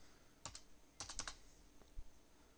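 Keys clatter on a computer keyboard in a quiet room: a short burst of typing, then a couple of quick clusters and a single soft tap, with no voices.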